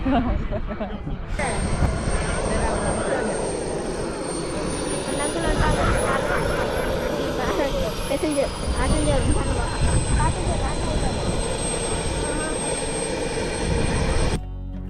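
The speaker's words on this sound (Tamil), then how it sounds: "RC flights, RC helicopters and drone." Continuous buzzing whine of radio-controlled model aircraft and helicopters flying at a training field, steady and fairly loud throughout with a rising and falling pitch as they pass.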